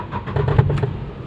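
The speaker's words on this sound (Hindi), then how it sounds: "ठक ठक करके एक साउंड आया।" A Renault Kwid engine cranks and starts with a knocking noise from under the body, heard as a short, close, steady mechanical rumble with faint irregular thuds.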